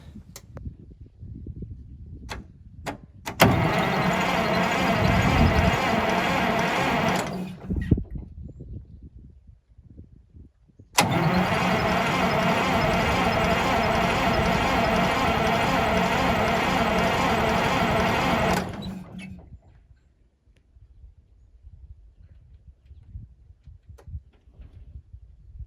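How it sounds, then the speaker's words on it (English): A Detroit Diesel 6-71 engine cranks over on a cold start in two loud sustained bursts, a short one and then a longer one of about eight seconds, with quiet gaps and faint talk between them. "Right now it's trying to turn over, and it's continually spraying very cold fuel into the cylinders"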